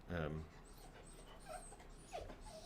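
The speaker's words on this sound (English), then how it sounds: "the puppy is whining over here" A puppy whines indoors near an office video-call setup, giving a short loud whimper at the start followed by fainter, higher whines and yips trailing off over a couple of seconds.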